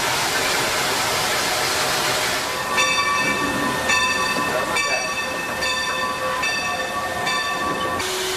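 Steam locomotive of the Grand Canyon Railway at the North Spur wye, with a loud steady hiss of steam and clanking as a regular series of ringing metallic tones repeats through it.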